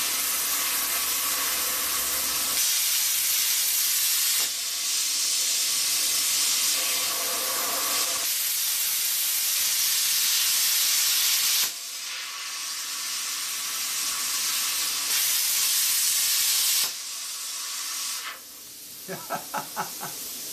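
An arc gouging torch cutting through steel gives a loud, steady roaring hiss in long sustained stretches, broken by brief pauses and restarts, ending with a few short crackling pops.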